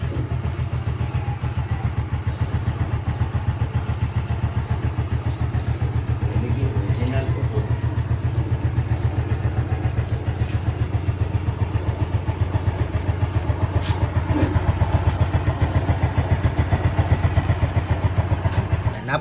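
A used motorcycle engine, checked at a motorcycle shop in Cebu, idles steadily and close by with a fast, even putter throughout, while someone talks over it.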